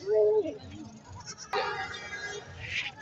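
Goat bleating near the start at a crowded livestock market in Karachi, with a harsh wavering call followed by market chatter and voices in the background.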